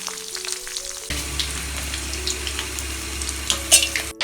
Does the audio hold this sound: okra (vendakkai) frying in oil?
yes